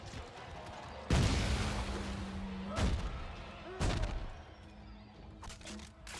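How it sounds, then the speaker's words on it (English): Heavy gunfire in the science-fiction horror video game Dead Space 3, three booming blasts spaced about a second apart, each with a thick low-end punch and decaying tail over steady game ambience. "Fire that gun."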